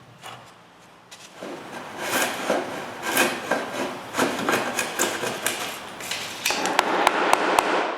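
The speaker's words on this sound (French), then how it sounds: "Je dois donc enlever un peu de bois avec un ciseau à bois." A wood chisel pares wood from a rabbet, giving a run of close scraping and rasping strokes with a few sharp taps toward the end.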